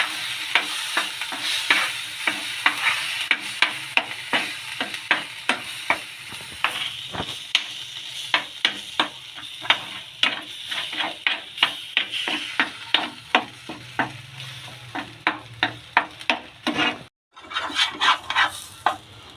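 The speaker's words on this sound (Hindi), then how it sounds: "लो फ्लेम पे भूनना है अदरक को।" Ginger roasts in a pan on a low flame, with a soft steady sizzle under dozens of regular clacks of a spatula stirring against the pan, close and continuous, broken by one brief pause.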